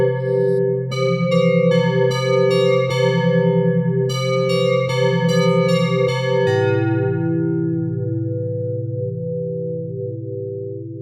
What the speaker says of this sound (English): to a very distinct bell sound on this particular algorithm.